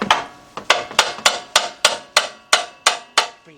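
A hammer pounding down a control arm on a 2005 Chevy Trailblazer, about ten sharp metallic strikes in a steady rhythm, close and loud.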